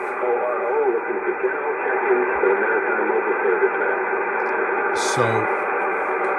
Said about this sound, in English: static and stuff.